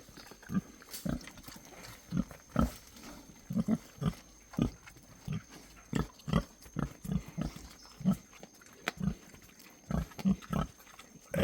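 Pigs on Niue Island eating fruit scraps, with repeated grunts, snorts and chewing noises coming in irregular bursts, fairly close but quiet, with no talking.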